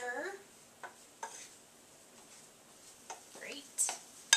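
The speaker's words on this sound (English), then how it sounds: "Give it a little stir." A spoon stirs cooked beans and fresh cilantro in a pan, giving a few soft scrapes and light taps, faint and spaced out, under a voice talking.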